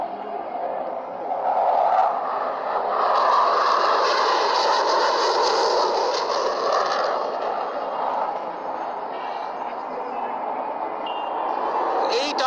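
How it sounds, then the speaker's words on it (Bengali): An F-7 fighter jet roars through an afterburner turn over a Victory Day parade ground. The loud, broad roar swells and lingers, then eases slightly, with faint crowd noise beneath it. "এবার F-7টি প্রদর্শন করবে আফটারবার্নার টার্ন।"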